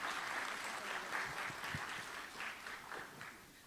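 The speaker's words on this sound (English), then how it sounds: "Let's welcome him with a round of applause," Conference audience at a national statistics event welcomes a director with applause, a soft, fairly distant patter of many hands that holds steady for several seconds and slowly tapers.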